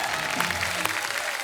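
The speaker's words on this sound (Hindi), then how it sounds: "तो आप सबकी जोरदार तालियों के बीच में इनवाइट करना चाहूंगा, please welcome mister Sachin Pilgaonkar" Studio audience applauding on a Hindi TV comedy talk show as celebrity guests are welcomed, a steady dense wash of clapping at moderate level with faint music underneath.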